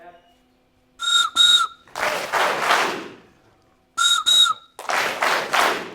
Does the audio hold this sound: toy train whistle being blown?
yes